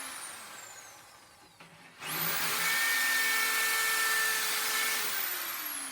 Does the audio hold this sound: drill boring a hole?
yes